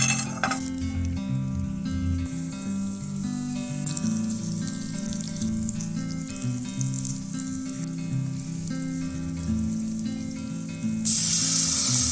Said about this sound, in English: I'm going to start frying up the onion over the fire.